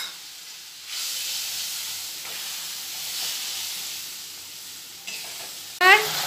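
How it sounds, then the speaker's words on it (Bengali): Spice masala stir-fried in a pan after a splash of water, a loud hiss and steamy sizzle that surges and settles, ending in a sharp burst of crackling, with no talking. "একটু জল দিয়ে দিচ্ছি মশলাতে এটাকে ভালো করে কষিয়ে নেব"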